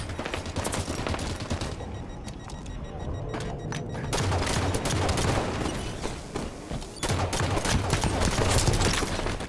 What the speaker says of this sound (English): I'm almost out of light rifle ammo already.